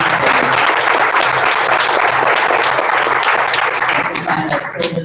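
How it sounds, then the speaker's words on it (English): An audience claps steadily and densely for a speaker at a technical talk on human capabilities in silicon, sustained applause filling the room before tapering slightly at the end. "let's give Adam a round of applause"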